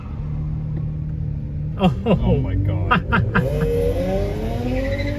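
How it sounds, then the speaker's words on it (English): A truck does burnouts at a car gathering, its engine roaring and revving loudly while tires squeal in rising, wavering screeches for several seconds. A person exclaims over the noise. "He's doing burnouts."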